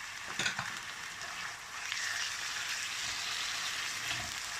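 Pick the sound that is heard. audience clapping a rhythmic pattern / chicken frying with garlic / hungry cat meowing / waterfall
chicken frying with garlic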